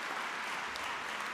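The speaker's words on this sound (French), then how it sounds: "mais la personne que j'évoque, je vous demande de l'applaudir, est Leila Mustafa." Applause from an awards-ceremony audience at a secularism prize event, a steady, dense wash of clapping that holds evenly at moderate level throughout the short stretch, with no voice over it.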